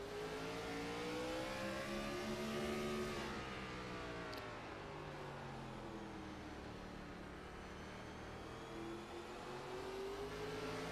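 Onboard engine of the number 94 car in an American Sim Racing Club Gen 4 Series sim race, droning loud and steady, rising under throttle, dipping as the driver lifts around 3–4 s, then building again.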